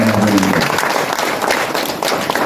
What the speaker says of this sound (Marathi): तुम्ही सगळ्या लोकांनी एकदम टाळ्या मारल्या पाहिजे